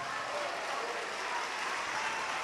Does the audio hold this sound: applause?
yes